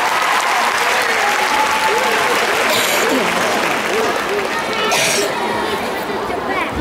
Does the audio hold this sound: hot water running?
no